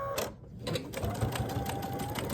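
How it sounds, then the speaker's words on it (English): Sewing machine stitching a fabric door hanger, running steadily and close for about two seconds after a brief pause near the start. "Then I'll start stitching"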